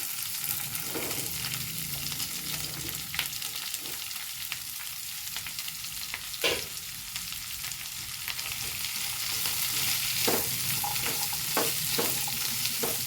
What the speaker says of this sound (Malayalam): ഇനി ഞാൻ ചെറിയ ഉള്ളിയാണ് ഇട്ട് കൊടുക്കുന്നത്